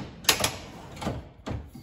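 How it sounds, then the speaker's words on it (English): An IKEA kitchen drawer set into its track and pushed shut, several sharp close clicks and knocks in quick succession. "wait for it to click, shut it"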